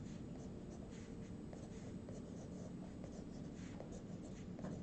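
Pencil sketching on paper at a drawing desk, a steady, close, continuous scratchy scribble with quick strokes and no pauses.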